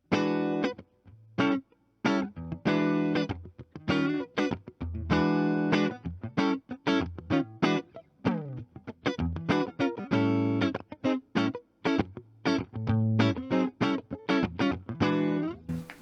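An electric guitar played through a Fender Deluxe Reverb amp, with a clean yet slightly driven tone, picked notes and chords in a lively, uneven rhythm.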